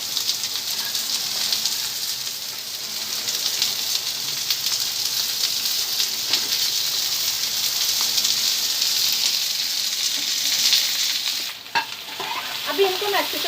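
Onion fries with spices in a pan for chhole masala, making a loud, continuous hissing sizzle with light stirring scrapes, briefly dipping near the end.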